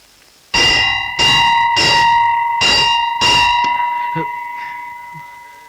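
A temple bell is struck five times in quick, steady succession, loud and close. Each metallic clang rings out over the last, then a long resonant tone fades away, with a few faint knocks at the end.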